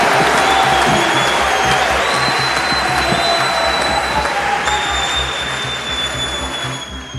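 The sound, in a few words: audience applauding the speakers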